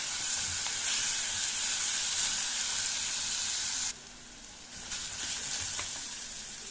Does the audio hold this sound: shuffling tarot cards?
no